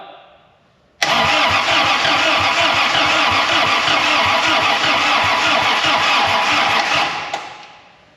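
A 1940 Dodge with a DeSoto Hemi engine cranking over, a loud steady rhythmic starter-driven chug that begins abruptly and runs for about six seconds before winding down, without firing.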